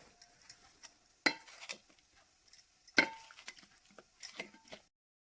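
Spices such as asafoetida, cumin and coriander powder being mixed into mixed-vegetable fritter batter in a bowl, with a few sharp spoon knocks and soft scraping and clinking at an irregular pace, close and fairly quiet.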